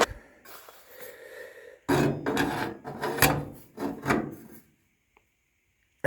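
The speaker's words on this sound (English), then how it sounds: "I'm going to clean these burrs off here with a file" Metal file rasping burrs off rusty steel on a truck cab brace: a handful of scraping strokes, quieter first, then a rapid loud series of close rough rasps before falling silent.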